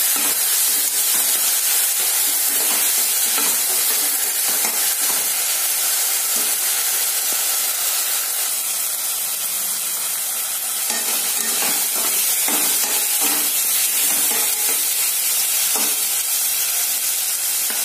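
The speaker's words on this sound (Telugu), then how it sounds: "గరం మసాలా ముద్ద చేసుకున్నాం కదా, అది వేసుకుంటాము. జస్ట్ వీటిని ఫ్రై చేసుకొని" Garam masala paste frying in a pan, with a steady, close sizzle and hiss throughout and occasional stirring scrapes, no voices.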